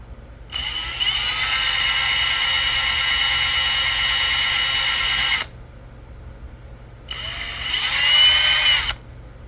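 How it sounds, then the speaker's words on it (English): A power drill whines loudly as it bores out holes in a broken DJI O3 ND filter tab, a steady high-pitched run of about five seconds, a pause, then a second shorter burst. "just grab the drill, and we're going to drill them out"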